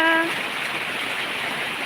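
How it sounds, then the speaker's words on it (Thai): Steady rain pouring in Songkhla province, a dense, even hiss of falling water that holds at the same level throughout, with a brief tonal chime or horn-like note at the very start. "ฝนตกแล้วค่ะ จังหวัดสงขลา"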